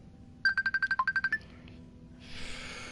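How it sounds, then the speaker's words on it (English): A phone ringtone during a call, a quick run of about ten loud, evenly spaced electronic beeps, then quiet with a soft hiss rising afterward. "I like how it just keeps ringing even still"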